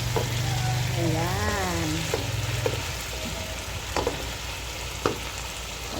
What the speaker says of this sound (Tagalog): Haluin. Para hindi masunog ang ating mga aroma na inilagay.